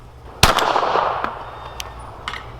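A CZ P-10S pistol fires at an outdoor range: one sharp, loud shot is followed by a long echoing decay, with fainter distant pops after it.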